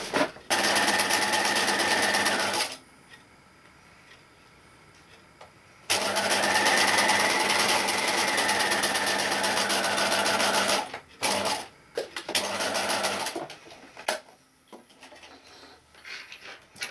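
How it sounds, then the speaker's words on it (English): Sewing machine stitching down the fabric edges of a covered notebook, two long loud runs of fast, even mechanical whirring separated by a quiet pause, then a few shorter bursts and handling noises near the end. "Then I'm going to take it to the sewing machine and stitch the edges down."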